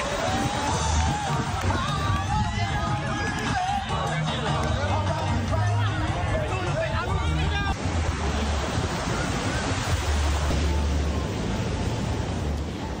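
Ocean surf rolling in at Nai Harn beach in Phuket, a broad, steady wash of breaking waves mixed with crowd babble and a reporter talking over it.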